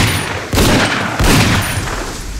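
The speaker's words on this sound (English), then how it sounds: "You hold gun like little girl." Handgun shots sound as loud, close blasts, with two heavy bursts and long booming decay in a film scene, no speech.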